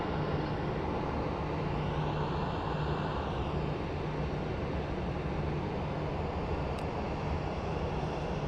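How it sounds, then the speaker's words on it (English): An airplane taxis at Phoenix Sky Harbor International Airport, a steady broad engine roar with a low rumble that holds at constant loudness throughout. "The pilots are carefully taxiing."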